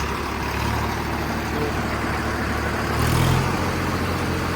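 A tractor engine drives a Shaktiman rotavator at around 1500–1600 rpm, producing a steady, loud, nearby mechanical drone that swells briefly near the end, with no talking.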